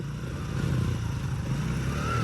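A motorcycle engine with smoke coming from its silencer idles with a steady, low, rumbling putter, close and continuous.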